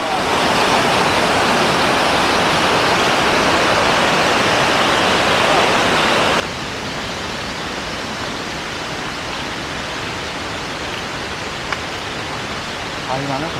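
Rushing river water near Grojogan Sewu waterfall in Tawangmangu, Karanganyar: a dense, steady roar that is loud for about six seconds, then drops to a softer but continuous wash of flowing water.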